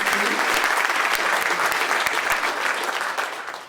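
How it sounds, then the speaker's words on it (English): Audience applause for students in a room at a summit, loud continuous clapping from a crowd that holds steady and then begins to taper off. "let's give a round of applause for the students who are going to be a part of this process"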